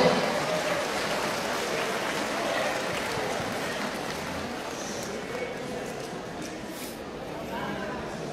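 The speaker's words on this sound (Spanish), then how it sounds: "Fuertes aplausos para este compañero." At a school graduation ceremony, a crowd of students and families applauds a graduating student in a dense, steady wash of clapping that stays even and moderately loud throughout.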